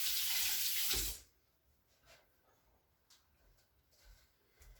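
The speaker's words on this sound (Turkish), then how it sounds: "Elime bir yıkayayım yine de şurada." Hands washed under a running kitchen tap: a loud rush of water for about a second, then the tap shuts off, leaving quiet handling sounds.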